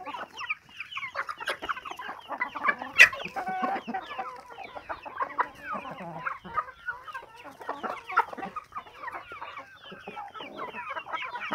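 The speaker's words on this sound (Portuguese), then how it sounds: "E aqui a minha criação de galinha." A flock of hens clucks and chatters continuously, with a rooster's louder call rising near the start, close by and lively.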